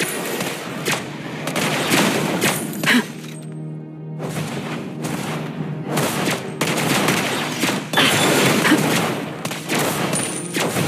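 Gunfire in the mobile game Mobile Legends: Bang Bang during a ranked match. Rapid, dense volleys of shots and impact effects run almost continuously, loud and close, with a brief lull midway.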